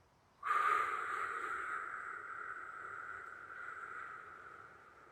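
A single long, slow breath runs through the nose or mouth, starting suddenly and trailing off gradually, soft, close and breathy, with no speech.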